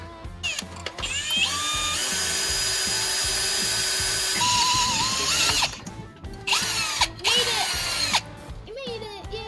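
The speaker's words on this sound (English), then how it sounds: "Drilling holes for the bump stops." A power drill bores holes for bump stops during a Jeep JL Sport axle swap, whining loudly in long sustained runs that stop and restart in shorter bursts, with ratcheting clicks between them.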